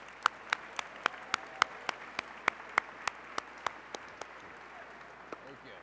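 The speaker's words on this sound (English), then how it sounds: "One more round of applause for Sherry." Applause from an audience at a charity gala, with sharp, evenly spaced close claps ringing out over a softer crowd wash that gradually thins toward the end.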